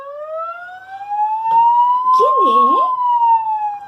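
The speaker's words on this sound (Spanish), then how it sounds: "Es una ambulancia que está pasando por afuera de mi casa" A steady ambulance siren passing outside a house, its rising-and-falling wail loud and continuous throughout, with a voice briefly speaking over it midway.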